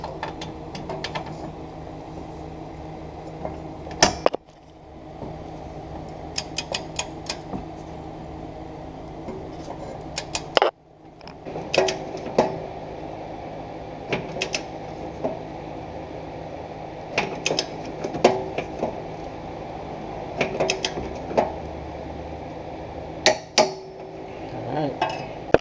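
A torque wrench tightens the trailer hitch bolts on a Nissan Rogue during a Class III hitch install, with scattered metallic clicks and ratcheting taps over a low background hum and occasional brief pauses.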